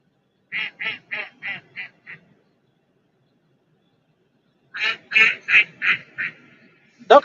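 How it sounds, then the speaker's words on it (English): Ducks quack beside the Ohio River in two loud bursts of rapid, nasal calls, about five or six quacks each, separated by a stretch of silence, with a sharper call at the very end. "Ducks are noisy."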